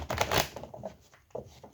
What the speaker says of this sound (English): can't even shuffle these cards today